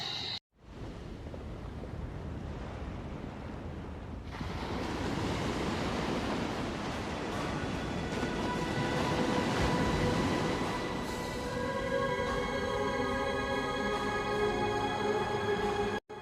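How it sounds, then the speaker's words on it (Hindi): Waterfall beside the Kalpeshwar Mahadev temple in Uttarakhand, a steady broadband rush of falling water that swells louder after a few seconds and holds as a continuous roar with no voices. "अभी आप दर्शन करें कल्पेश्वर महादेव के चरणों से निकलने वाले इस खूबसूरत झरने के।"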